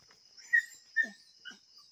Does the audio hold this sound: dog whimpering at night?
yes